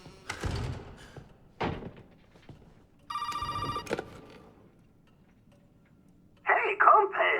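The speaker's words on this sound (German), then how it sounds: "Ja, so, mal schon wieder Telefon." A telephone rings in the horror video game Resident Evil 7, with a bright, tonal ring burst in the middle and a loud electronic sound near the end. Other game noises and thuds surround it, and no one talks.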